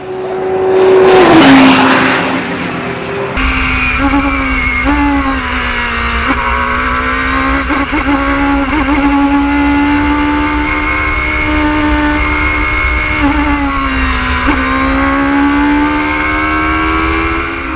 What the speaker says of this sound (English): really opening up the taps on the Daytona machine, putting in some impressive lap times to keep the team in the hunt